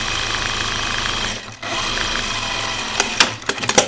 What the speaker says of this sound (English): So I'm sewing my straps right now.